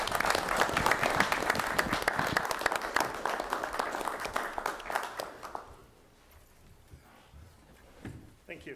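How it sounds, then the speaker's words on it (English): Town board meeting guests receive a round of applause from the room, dense clapping at steady strength for several seconds before it thins out and fades, leaving a quiet pause with a few faint sounds. "Can we get a round of applause for them"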